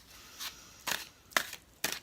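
Oversized tarot cards shuffled by hand in about four short, crisp riffling bursts spaced roughly half a second apart, close and fairly loud with no talk.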